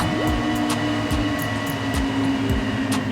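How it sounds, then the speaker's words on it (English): A train running on a railway, heard as a steady continuous rumble with repeated rhythmic clacks of wheels over rail joints and passing hiss, loud and close throughout with no talking. "A vehicle like this runs on the railway and sounds like this."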